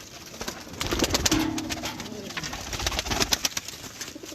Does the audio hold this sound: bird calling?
yes